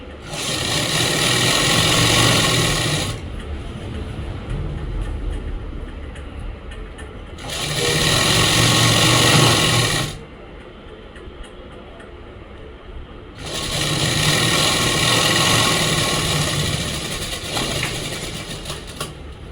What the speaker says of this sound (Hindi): देखो यह साइड वाली सिलाई हमने मार दी है, देखो कितने अच्छे तरीके से।